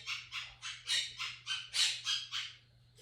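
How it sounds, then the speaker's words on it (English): A pet bird lets out a rapid series of about nine loud, harsh squawks in an even rhythm, close by in a quiet room over a faint low hum. "Anyways, my bird."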